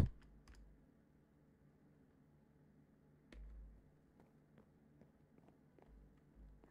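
Rapid keyboard presses on a computer's Shift key during a timed dance-off minigame, a quiet run of light clicks and taps with a few sharper hits, no talking.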